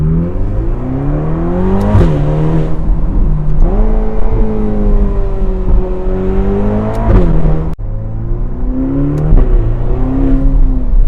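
A Ferrari Portofino engine with a 7-speed dual-clutch gearbox revs hard through several gears, rising in pitch with each shift, loud and close, with brief pauses between upshifts.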